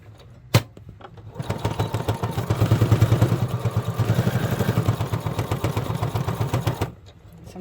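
A home sewing machine runs steadily for about five seconds, stitching a dog batwing costume, its fast even motor chatter and needle clatter starting after a sharp click and then stopping abruptly.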